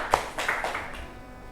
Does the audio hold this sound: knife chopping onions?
no